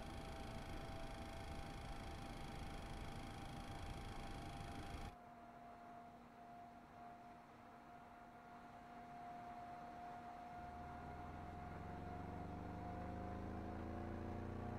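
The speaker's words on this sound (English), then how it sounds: "And we'll start engine number 1." Engine number 1 of a Boeing 737-300 Classic spooling up for start on the ground in X-Plane 11: a steady loud whine and broadband rush, dropping after a few seconds, then a low rising rumble building near and continuous.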